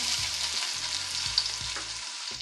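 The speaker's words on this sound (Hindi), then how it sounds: "प्याज को भून लेते हैं" Onions frying in hot oil with whole spices and thick dried chillies for panchmel dal, a dense close sizzle with a soft hiss running the whole time and faint low stirring knocks underneath.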